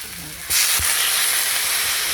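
Water poured into a pan of fish curry that was already sizzling sets off a sudden loud burst of hissing steam and bubbling, which then holds steady as a broad, even sizzle with no voices.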